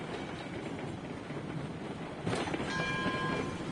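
A steam train rolls along steadily in a train video game, a low rumbling clatter. Partway through, a horn or whistle sounds over the running noise.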